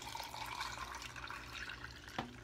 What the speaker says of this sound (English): So we're going to pour this water in.